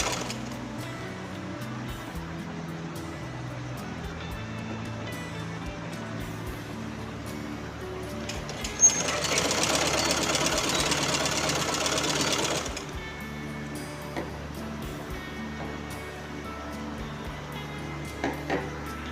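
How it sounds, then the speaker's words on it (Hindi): A sewing machine stitches a sleeve seam in one burst of about four seconds, a steady whirring run, with quieter handling noise before and after it. "उसके बाद देखिए इस तरीके से एक फाइन सिलाई और हम लगा लेंगे।"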